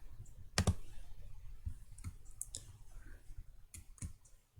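Mouse clicking while working in FreeCAD, a handful of sharp isolated clicks spaced irregularly, one louder at the start, close and alone over quiet room noise.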